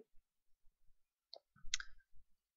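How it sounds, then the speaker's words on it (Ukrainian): A computer mouse gives a few sparse, sharp clicks against near silence, close and quiet, with small irregular gaps between presses and a brief cluster of clicks near the middle. "Клікнути на фотографію профілю, клікнути правою клавішою"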